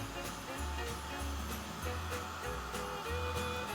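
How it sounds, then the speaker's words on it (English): A heat gun blows a steady, close, roaring hiss while melting gold embossing powder, a constant whoosh with a low rumble and no clear talking. "what you need to do is put the heat gun over top of it"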